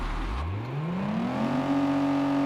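Car engine revving in the racing game Gear.Club Unlimited 2 on PS5, pitch sweeping up from a low rumble to a high sustained whine that then holds steady, loud and alone.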